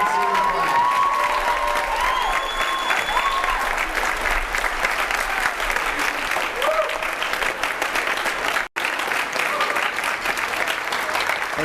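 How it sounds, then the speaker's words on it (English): Sustained audience applause at a school orchestra spring concert, honoring the 2019 senior class; dense, steady clapping from a large crowd fills the hall throughout, with a few whoops and faint voices mixed in. "let's get a round of applause"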